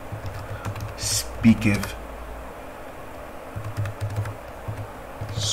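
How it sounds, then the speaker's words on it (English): Keys on a computer keyboard tapped in a short burst as a search is typed, fairly close, with a man's speech and a low background hum around it. "Just type in Bible."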